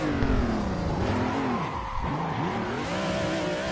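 A car drifting in the Assetto Corsa racing game produces a loud, continuous engine drone with pitch swinging up and down, and tire squeal as the car slides and skids.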